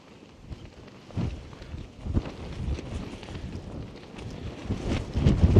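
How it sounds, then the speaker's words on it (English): Strong wind blows against a lightweight one-person Fjällräven Abisko Lite tent at a spring campsite, making fluttering gusty rumbles that build and grow louder toward the end. "because where Liam is, right next to George, his tent's blowing like a hoolie"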